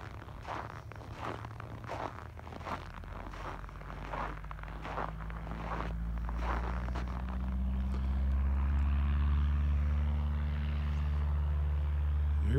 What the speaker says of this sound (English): Here goes Liam, first solo, and he's airborne